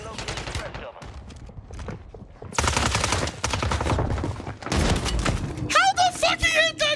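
Bursts of gunfire from the Call of Duty Warzone video game, an MP5 firing in loud rapid volleys with sharp shots and impacts, broken by brief pauses, while a voice talks over the action.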